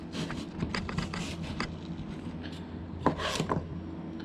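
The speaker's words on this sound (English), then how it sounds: "what you're going to do is you're just going to kind of start slicing it" Knife slicing through watermelon rind on a cutting board, a run of crisp, rapid cuts and scrapes up close, then a brief pause and a few more slices.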